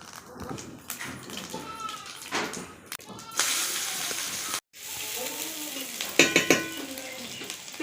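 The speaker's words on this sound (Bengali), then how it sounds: "ওই একই তেলে আমি ফোড়নটা দিয়ে নেব।" Bay leaf and cumin are tossed into hot oil left over from frying fish and sizzle with bursts of crackling hiss. Stirring, a clink of pots and utensils and a brief pause break up the sizzling, with some soft voice in the background.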